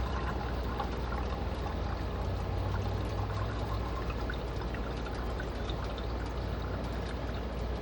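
Gold-bearing liquid pours steadily into a jar, a continuous splashing, trickling stream that runs at an even level for several seconds, close and without talk.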